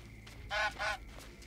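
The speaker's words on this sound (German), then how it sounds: "Geh weg, du Gans." Goose honking in the video game Force of Nature 2: two loud, close honks in quick succession over a quiet game background.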